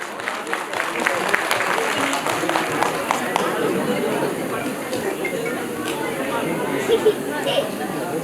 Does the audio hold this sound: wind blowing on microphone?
no